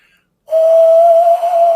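A person whistles through cupped hands in imitation of an owl, producing one steady, loud, pure tone held for over a second after a brief silence, close and alone.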